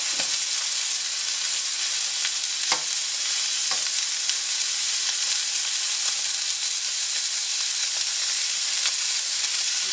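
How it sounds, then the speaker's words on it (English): Steak sizzles steadily in a hot pan with no added oil, cooking in its own rendered fat; a continuous close, bright frying hiss with occasional louder pops and crackles, no voices. "I did not add any oil in here, but its own fat will kind of help cook the steak."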